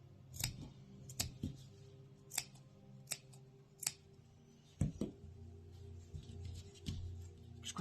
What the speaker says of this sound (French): on fait des petits coups de ciseaux en essayant de ne pas abîmer sa couture